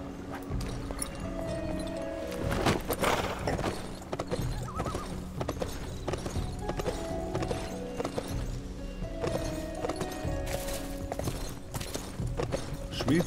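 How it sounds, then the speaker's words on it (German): Horse hooves clip-clop in the video game Sacred 2, a steady patter mixed into dense game ambience and effects, moderately loud throughout. "Pferd."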